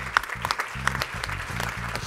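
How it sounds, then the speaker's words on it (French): Applause rings out at a green retail pitch event, broad and steady clapping with low rhythmic music pulsing underneath for about two seconds. "On peut l'applaudir."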